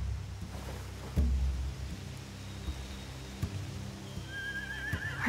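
Horses in The Walking Dead: The Final Season video game, one neighing in a short rising whinny near the end over a low ambient rumble and scattered thuds.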